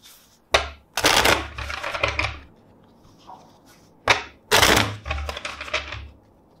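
Two bursts of tarot cards being riffled and shuffled up close, each a quick crackling flutter, separated by a short quiet gap.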